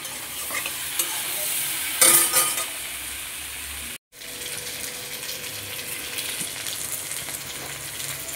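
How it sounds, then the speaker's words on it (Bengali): Pointed gourd frying in a pan with oil, a continuous close sizzle with scraping stir strokes, one louder clatter midway and a brief drop to silence before the frying resumes. "তো দেখো পটলটা লাল লাল করে ভাজা হয়ে গিয়েছে বন্ধুরা।"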